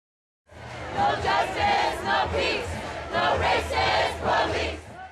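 A crowd at a hunger strike rally on Valencia Street, many voices chanting together in loud rhythmic surges after a brief silence.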